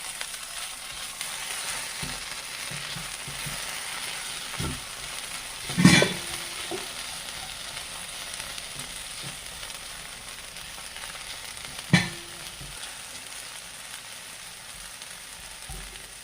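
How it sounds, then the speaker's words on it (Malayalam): Okra stir-frying in a pan for a Kerala vendakka mezhukkupuratti gives a quiet, steady sizzle with occasional soft stirring knocks and two sharper utensil clinks, close and with no talk. "വെണ്ടയ്ക്ക ഇങ്ങനെ ഇളക്കി കൊടുത്ത് ഇളക്കി കൊടുത്ത് അതിനെ ഫ്രൈ ആക്കണം"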